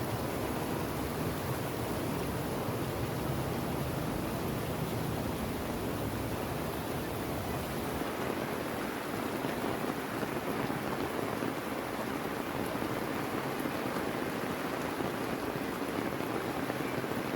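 Heavy rain pours steadily in the Philippines, a dense, unbroken roar of falling water that stays close and even throughout with no voices.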